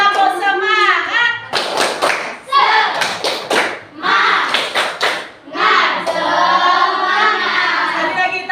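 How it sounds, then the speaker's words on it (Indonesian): A class of fifth-grade schoolchildren performs a rhythmic cheer clap, loud bursts of unison clapping in patterned beats alternating with children chanting and talking close by. "Kasih tepuk semangat dulu untuk kelompok visual."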